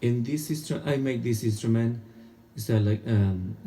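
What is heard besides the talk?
None of the usual background noises is heard.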